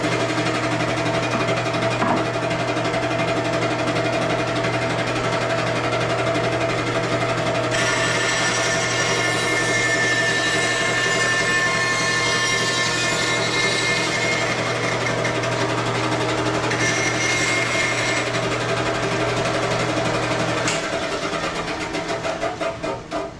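A band saw runs steadily with a continuous hum while cutting wood on a cross cut sled; a louder, harsher cutting sound rises partway through and lasts several seconds before the motor winds down near the end.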